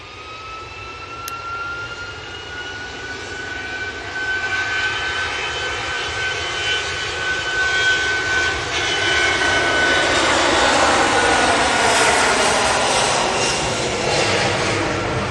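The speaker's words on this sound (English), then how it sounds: "Had the Malta Air touchdown over there" A Malta Air jet touches down at an airport. Its engine roar swells steadily and grows louder toward the end, while a thin whine glides slowly downward, and no one speaks.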